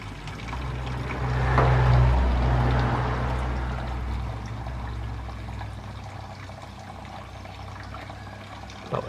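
Old fuel that has sat for twelve years pours out of a Ford Capri fuel tank, a steady liquid gush swelling early then settling into a continuous run with a low rumble beneath.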